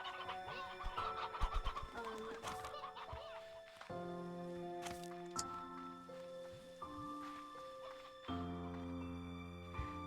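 Chickens in the video game Slime Rancher 2, repeated clucks and short squawks over a layered, sustained musical score, the clucking busiest early on and fading into the music later.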